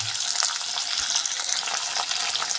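Green tomatoes, garlic and peanuts roasting in a pan give off a constant close, hissing sizzle with light crackles, alone and without talk.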